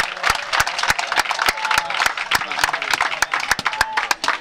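A rugby crowd at a high school division final claps after the referee shows a yellow card, with scattered, uneven handclaps rising and falling, loosely rhythmic and moderately distant, with commentators talking over it.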